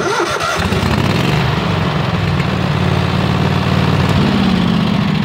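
The engine of a welding rig starts with a quick crank and settles into a loud, steady, close idle.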